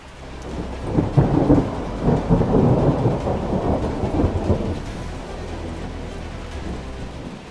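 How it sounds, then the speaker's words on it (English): Heavy rain pours down during a thunderstorm over a muddy Georgia property under construction, with loud rolling thunder swelling in the first half before easing into a steady hiss of rainfall. "Like I said, it's been raining a lot"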